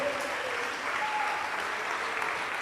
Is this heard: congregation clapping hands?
yes